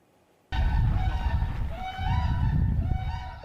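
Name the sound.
whooping cranes calling in Wisconsin wetlands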